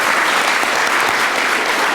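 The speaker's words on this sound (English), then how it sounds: "Let's give them another round of applause." A roomful of people clapping at a check presentation to a school, a full, even round of applause that stays loud and continuous throughout without talk.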